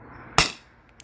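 A Byrna SD launcher on an S2 gas supply fires an aluminum salt round: one sharp, loud pop with a short decay, then a faint click right after.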